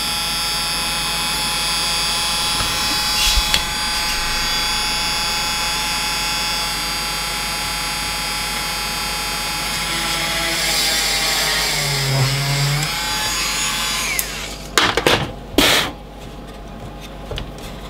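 A power drill bores a hole in a board, a continuous loud whirring whine that shifts pitch near the end before stopping with a few clicks and knocks.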